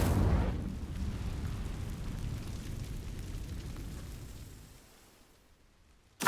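An Incendio fire spell is cast in Hogwarts Legacy, a sudden burst followed by a sustained roaring, crackling rush that slowly fades, ending with a brief sharp pop.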